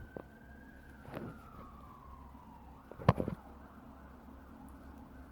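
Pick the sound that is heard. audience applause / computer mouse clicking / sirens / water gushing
sirens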